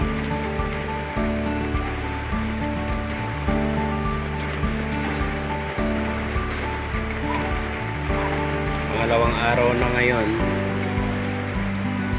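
Steady heavy rain from Typhoon Carina and the monsoon pours down as a continuous dense wash, while a person speaks briefly over it.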